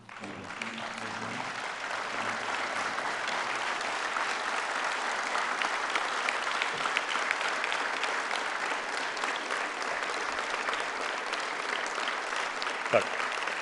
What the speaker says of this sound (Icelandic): Og því langar mig að biðja ykkur til þess að rísa á sætum og gefa þessu fólki gott klapp.